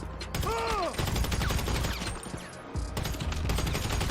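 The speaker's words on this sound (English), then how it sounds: "Every loadout needs a silenced rifle, and there isn't many better than a carbine rifle Mark II." A silenced Carbine Rifle Mark II in GTA V fires rapid, dense, mechanical-sounding bursts, nearly continuous with a brief pause, close and fairly loud with no talk.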